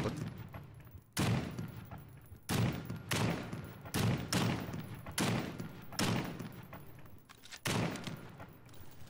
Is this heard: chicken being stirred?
no